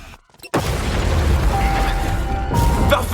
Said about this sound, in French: Vous voyez cette explosion là?